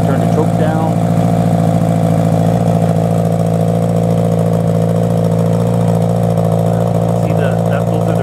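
A 1983 Honda Goldwing cafe-style motorcycle idles steadily at around 1800 rpm with the choke on, a loud, even low rumble running unbroken from start to finish with no voices over it.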